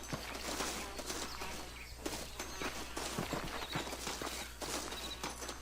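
A horse's hooves clip-clop steadily in Red Dead Redemption, fairly faint over a low steady hum and outdoor game ambience.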